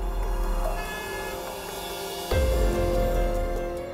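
A train rumbles past with a steady low roar of wheels and cars, then grows louder midway as a horn-like tonal blast sounds close by amid the continuous rail noise.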